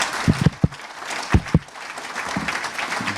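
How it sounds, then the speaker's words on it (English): An audience at a press club hall of fame ceremony applauds for honorees, with clapping building into a sustained round and a few sharp thumps near the start. "How about another round of applause for our honorees?"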